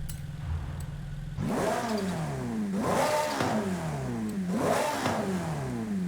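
A Ferrari F8 in Forza Horizon 5, fitted with upgraded cams and turbos, idles and then blips through three rising revs in steady rhythm, each dropping back quickly, loud and up front.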